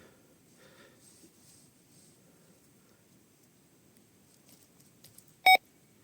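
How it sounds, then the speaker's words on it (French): A short electronic beep goes off from a banner after it is shaken only slightly, a single sharp tone standing out once against a quiet background with faint rustling. "J'ai à peine secoué, il y a eu un bip."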